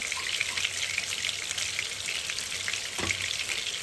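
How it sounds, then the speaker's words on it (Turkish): Tomato paste fries in a pan for an İskender sauce with köfte, giving a steady, close hiss and crackle throughout, broken by one brief stir or scrape near the end, with no talking. "Salçamızı şöyle hemen kavuruyorum."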